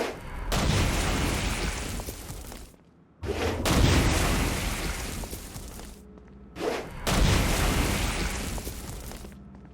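Stone Blast attacks in Saints Row: Gat out of Hell, three loud booming explosive bursts with whooshing rumble, each lasting a few seconds and separated by brief gaps.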